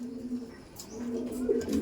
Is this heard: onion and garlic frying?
no